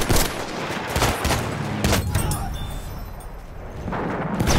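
Battlefield 1 combat brings loud, close bursts of rifle and machine-gun fire, with sharp cracks in rapid clusters at the start and again near the end over a rumbling battlefield backdrop, and voices talk in between.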